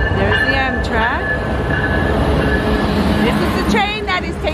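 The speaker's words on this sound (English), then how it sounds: "This is the train that is taking me home" An Amtrak passenger train arrives at a station in Havre, Montana, early in the morning, with loud rumbling and squealing wheels and brakes that rise and fall. A person talks over the train noise.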